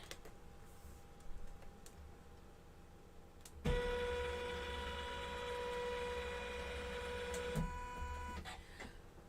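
A sewing machine stitches a denim storage bag, starting abruptly partway through with a steady, fast mechanical whir and rapid needle chatter for about four seconds, then stopping, with quiet room sound before and after.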